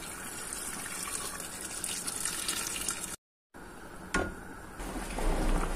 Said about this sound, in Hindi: अभी इसमें डालेंगे गर्म पानी, जो मैंने केटल में गर्म कर लिया अच्छी तरह से